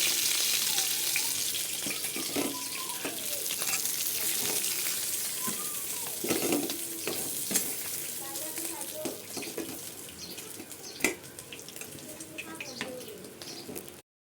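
Prawns fry in hot oil in a pan, making a continuous close sizzling hiss with occasional clinks of a spoon, while a voice speaks intermittently.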